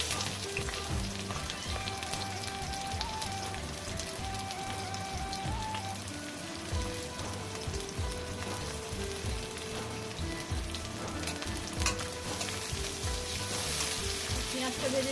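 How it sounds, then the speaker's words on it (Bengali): Onions sizzling in hot oil with two cloves and a cinnamon stick, a steady close crackle that runs continuously beneath soft background music. "দিয়ে এবার মধ্যে দিয়ে দিচ্ছি আমি পেঁয়াজ"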